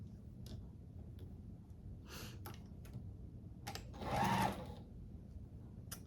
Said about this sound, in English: now I'm gonna sew my 1-inch pieces on and go around